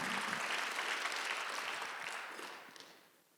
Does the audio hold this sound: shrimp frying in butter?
no